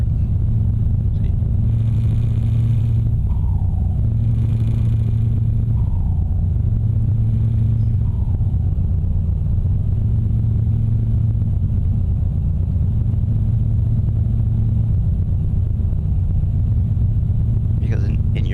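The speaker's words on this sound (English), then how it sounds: "this truck has side pipes on it. So therefore you can hear the noise right by the side of the truck." A big truck in Euro Truck Simulator 2, fitted with side exhaust pipes, gives a steady, loud low engine drone that carries on throughout. The pitch stays almost level, dipping only slightly now and then, with no talking.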